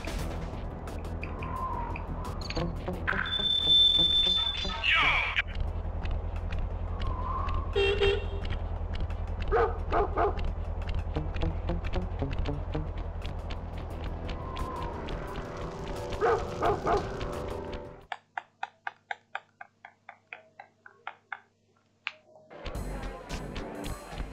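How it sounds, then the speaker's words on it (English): Guard dogs carrying machine guns bark repeatedly in the Sly Cooper video game, loud yips and bow-wows over a steady game soundtrack and effects, followed by sharp rhythmic bursts near the end. "Mugshot's got those machine gun toting dogs hunting like a pack."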